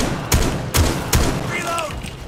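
Three sharp gunshots ring out in quick succession in a first-person shooter game, each a loud broadband crack with a low thump, followed by a faint chirping effect.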